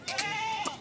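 A single goat bleats on a livestock farm, one drawn-out wavering call with a sharp onset, close by and clear with no talk over it.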